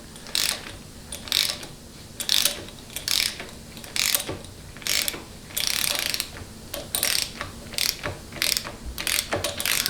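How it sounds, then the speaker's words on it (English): A hand ratchet torques the bolt-on yoke nut on a Ford 6R140 transmission during final assembly, giving repeated bursts of close, loud clicking pawl strokes with short pauses between them, and no talking. "I typically torque these to like between 50 and 60 foot-pounds on all these bolt-on yokes for transmissions"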